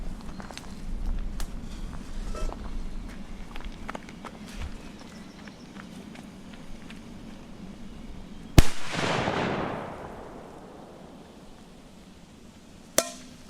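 A loud firecracker bang followed by a hissing, crackling tail, then a second sharp bang a few seconds later, amid quiet outdoor shuffling; strong Polish firecrackers.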